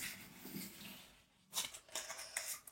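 Tarot cards being handled and drawn from a deck, quiet papery slides and soft snaps, a faint rustle first and then a few crisper card flicks close by.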